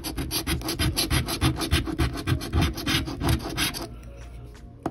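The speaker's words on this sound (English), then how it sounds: "All right, for this one, we'll use the scratching stick that Michelle PT sent me." Rapid, steady scraping of a stick across a Monopoly lottery scratch-off ticket, a close, continuous rasping series of strokes that stops near the end, with no talking.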